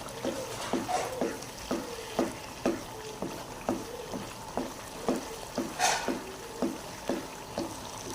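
Makhandi halwa is stirred and roasted on low heat in a pan, with a steady, regular scraping and stirring rhythm of the spoon about once per second over a faint sizzle, close and fairly quiet.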